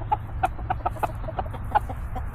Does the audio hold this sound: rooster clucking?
yes